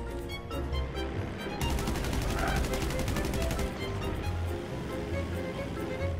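Rapid automatic gunfire in Grand Theft Auto V on PS4, a dense stream of loud shots over a constant roaring engine-and-water background, with a steadier burst of fire in the middle.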